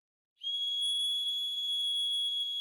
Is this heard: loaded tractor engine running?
no